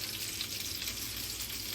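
Pasta sauce sizzles and spits in a hot pan in a yacht's galley, a steady close frying hiss with fine crackling spatter and no voices.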